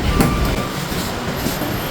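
A metro train runs along the track with a loud, continuous rumble and rattle of carriages. The noise is steady and close, as heard from on board, with no talking.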